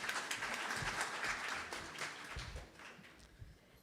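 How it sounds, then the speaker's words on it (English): Audience applause at a Philippine presidential awards ceremony for outstanding MSMEs, steady clapping from a crowd that slowly thins and fades over a few seconds. "Let's all give her a big round of applause."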